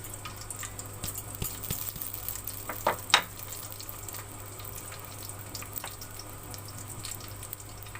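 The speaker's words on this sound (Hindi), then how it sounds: "वन टीस्पून मिक्स साबुत गरम मसाला शामिल कर लेंगे। इसको थोड़ी देर भून लेंगे।" Whole garam masala spices roast in a pan with a low, steady frying crackle and a couple of brief clinks around the middle, otherwise quiet and unbroken.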